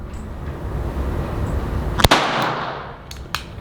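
A Colt King Cobra .22 LR revolver fires outdoors, with one sharp close crack followed by a couple of fainter, quicker reports over steady wind and ambient noise.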